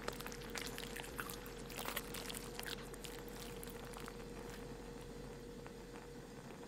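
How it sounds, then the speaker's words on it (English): Malt extract being poured into a brewing vessel in the Brewmaster beer simulator game: a steady, grainy rushing pour with soft splashy flecks, strongest in the first few seconds and then settling into a low, even hiss. "Okay, stop pouring."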